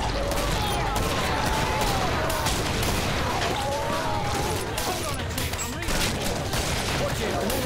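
Continuous, dense shotgun and gun fire rolls through a chaotic Killing Floor co-op match, the loud blasts overlapping almost without pause while voices talk over the din.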